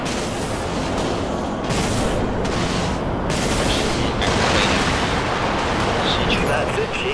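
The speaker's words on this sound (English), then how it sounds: "Flechettes firing." Flechettes firing in the Dreadnought video game, a dense continuous barrage of rapid loud shots and booms with a voice talking over it.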